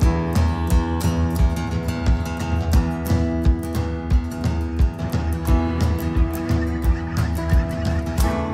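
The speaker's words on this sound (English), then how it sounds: "Whole bunch of yellow-billed magpies calling up on the top of these trees." Yellow-billed magpies call from the treetops of a woodland with grassy patches and small ponds near a river boat launch, giving a steady stream of harsh, nasal squawks and chatter from many birds at mid distance with no talk.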